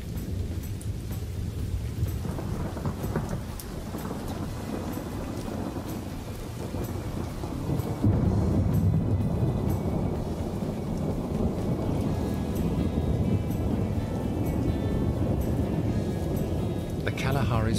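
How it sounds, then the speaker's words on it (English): Rain hisses steadily over the Kalahari while low thunder rumbles and swells, growing heavier partway through, with a voice speaking over it. "Finally, rain brings some moisture to the land"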